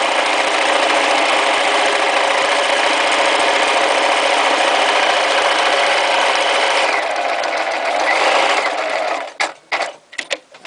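A sewing machine hums and buzzes continuously as it stitches rucksack fabric, then slows and stops in a few short bursts at the end.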